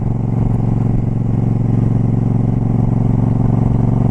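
A motorcycle hums steadily on a cool-weather ride, its engine holding a constant low drone with a faint rhythmic rumble and no talking.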